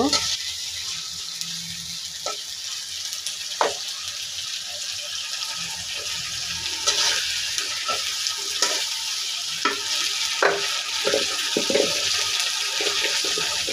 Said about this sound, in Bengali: খুব ভালোভাবে ভেজে নেব।